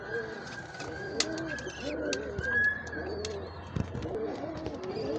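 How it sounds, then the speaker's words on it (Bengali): Two young Kamagar pigeons, freshly separated from their parents and not yet flying well, give soft repeated coos with a few thin cheeps and faint clicks, close by in a quiet setting. "একদম জিরো পরের বাচ্চা, এখনও চিচি করে বাচ্চাগুলা"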